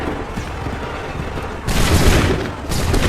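A musket volley fired on command in Assassin's Creed III Remastered cracks out as a loud, dense burst of gunfire, followed by a second ragged blast a moment later, against low background rumble.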